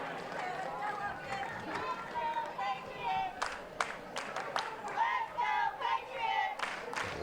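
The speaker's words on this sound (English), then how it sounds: "Let's go Patriots chant breaking out in the crowd" A crowd of fans at a high school state championship baseball game, chanting for the Patriots in a rhythmic burst with clapping. A commentator talks over it.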